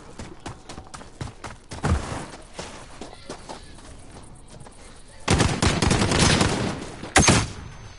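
Rapid video game gunfire, bursts of automatic shots crackling in quick rhythm, with a loud sustained volley and a final sharp burst, close and prominent.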